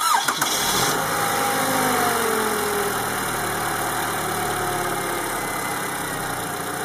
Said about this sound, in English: we are able to now crank the car and start the car